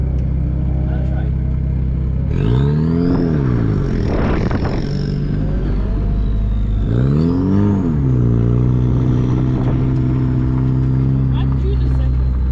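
A Ford Fusion revs hard while drifting, with two loud surges of rising engine note and clatter over a steady idle-like drone, and voices can be heard in the car.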